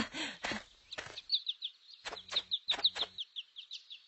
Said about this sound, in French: Les jeunes chasseurs arrivèrent sans faire de bruit devant une volée d'oiseaux peu méfiants.